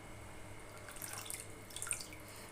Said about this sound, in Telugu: కొత్తిమీరను మంచిగా చేతితో ఇలా చూడండి, ఇలా చేతితో మంచిగా కడగాలి